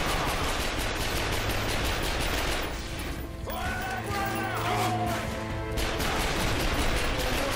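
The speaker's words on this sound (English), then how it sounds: "I'm shooting at freaking nothing" Rapid bursts of gunfire from The Darkness 2 video game crackle loudly and densely, easing briefly mid-clip before the shooting picks up again.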